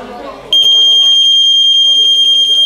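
A smart home security alarm siren bursts on after a moment of talk, a loud piercing high tone pulsing rapidly and steadily, with a voice faintly speaking underneath.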